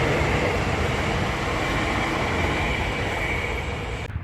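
A train at Amsterdam Sloterdijk station gives off a steady, loud rumble of rolling wagons that holds level throughout, then drops away sharply at the very end.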